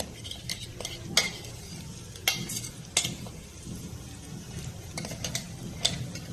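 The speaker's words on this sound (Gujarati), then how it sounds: "એકવાર આપણે અહીંયા પેસ્ટ આ રીતે ઉમેરી અને સાંતળીશું" Mint and coriander paste sautéed in hot oil for sev mamra, with a steady close sizzle and repeated sharp spatula scrapes and clinks against the pan at an uneven rhythm.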